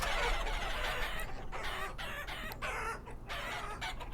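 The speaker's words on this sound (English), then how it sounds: "I definitely heard a bunch of roosters in here" Roosters crowing and clucking inside a barn in the game Vintage Story, a loud overlapping flock chorus with a raucous crow cutting across steady background clucking.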